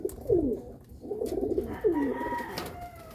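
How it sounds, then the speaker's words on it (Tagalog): A pair of grizzle pigeons coo close by, with two distinct soft, throaty coos a second or so apart over light background rustling. "Paris na yung grizzle mga kalapatids."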